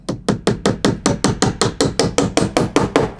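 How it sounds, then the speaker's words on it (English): A hammer drives a nail into wood while building an outdoor shower in Alaska, about eighteen sharp, close, evenly spaced blows in a fast steady rhythm, loud and with no talking. "It's like the Austin Powers of hammering in a nail."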